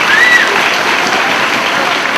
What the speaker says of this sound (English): Round of applause from the fans here in Detroit, very appreciative of solid wrestling